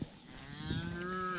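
A heifer moos once near her newborn calf in a farm setting, a drawn-out, close, moderately loud low call with rising harmonics and nothing else over it.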